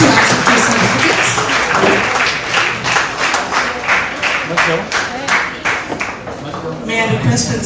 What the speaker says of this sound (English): please clap for our first position holders in the sub-junior category